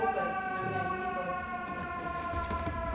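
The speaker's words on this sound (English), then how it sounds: "You have to yell louder than the fire engine." A fire engine siren wails steadily outside an open window during an evening Tibetan Buddhist gathering, loud and sustained for the whole stretch, with faint voices beneath it.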